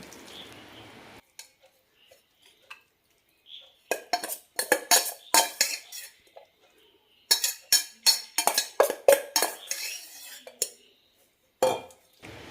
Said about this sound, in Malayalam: നന്നായി മിക്സ് ചെയ്ത ശേഷം ഇതിലേക്ക് മാങ്ങയും ചേർക്കാം.